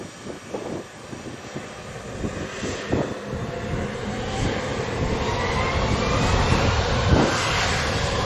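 An airliner powers up for takeoff on runway 07 at Montego Bay airport in Jamaica, its jet engines building into a broad, rising roar that swells and holds loud toward the end.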